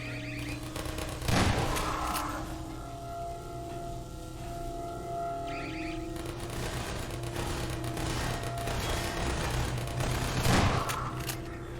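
In Half-Life 2, automated turrets fire sustained rattling bursts over a constant droning background, with a couple of louder sharp spikes standing out.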